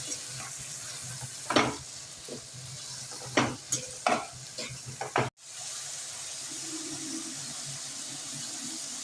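Turmeric being stirred into a vegetable biryani mixture in a pan, with a few sharp scraping strokes of the spoon over a steady soft sizzle that continues alone afterward.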